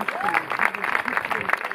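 Applause for a jury member at the Porquerolles Film Festival award ceremony, steady clapping from an audience with voices and crowd murmur mixed in throughout.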